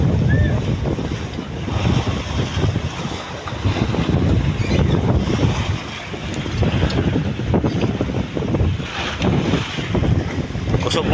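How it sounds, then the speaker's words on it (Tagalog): Strong wind gusts buffet the microphone out at sea aboard a fishing boat, a steady loud roar of wind noise mixed with waves and the low rumble of the vessel throughout, with a voice faintly underneath. "Kusog ng hangin oy."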